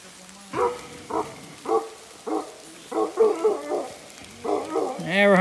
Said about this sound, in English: Never heard that dog barking like this.